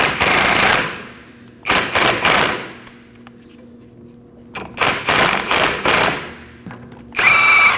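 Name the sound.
power tool with socket removing bolt on Kia Optima brake caliper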